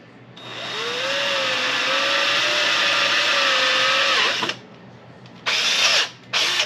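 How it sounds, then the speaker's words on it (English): A power drill fitted with a 1/4 inch bit bores into a PVC plug, its motor whining steadily for about four seconds at close range, then stopping, followed by two shorter bursts of spinning. "I'm going to use a 1/4 inch drill bit to drill that."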